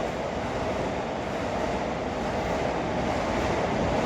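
A train passing beside a park in a residential area of Japan, a dense, steady rumble of rolling wheels that stays loud and constant throughout, with no talk.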